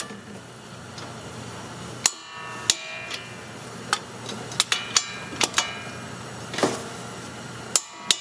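Torque wrench clicking while tightening brake caliper bolts on a Dodge Journey front brake, a scattering of sharp, fairly faint clicks and taps over a quiet workshop hum, with no talking.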